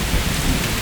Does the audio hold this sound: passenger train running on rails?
no